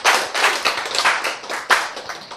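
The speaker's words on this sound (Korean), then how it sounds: "일어나서 춤은 못 춰도 박수는 좀 크게 쳐야 됩니다" A lecture audience at a health talk claps together, a dense, loud patter of many hands with a few sharper swells, close and continuous without any voices.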